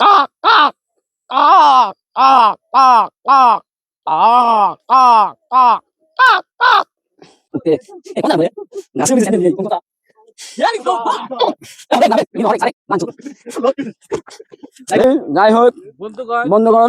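A man imitates a crow's caw with his voice, giving a run of about a dozen loud, evenly spaced nasal calls up close, then breaking into talking and laughter among a small group.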